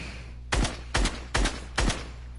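Four loud gunshots from a video game firefight, fired at an even pace about half a second apart, each a sharp broadband crack over a steady low background hum.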